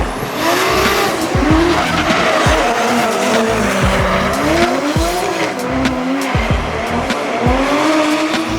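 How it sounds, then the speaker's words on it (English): Nissan S13 drift cars skidding at a D1NZ drifting round at Mt Smart Stadium, with continuous loud engine roar and repeated long tire squeals rising and falling throughout. "It was Darren Kelly taking on Bruce Tannock's Nissan S13"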